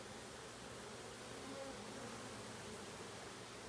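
A swarm of honeybees gives off a steady, faint hum that fills the whole stretch without pause, with no voices heard.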